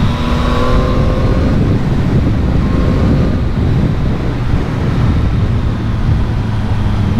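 A 2022 Yamaha MT-09 motorcycle engine under way, a steady, smooth drone almost buried beneath a constant loud rush of wind across the microphone; no one speaks.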